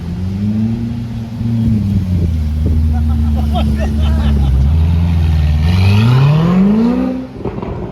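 A Ferrari 488 Pista Spider drives along a Zurich street, its engine a loud, close, steady drone that swells and climbs in pitch toward the end as it pulls away.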